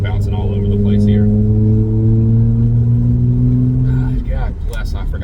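A Subaru car engine runs steadily at idle with a deep, even drone, close by and fairly loud, with no speech over it.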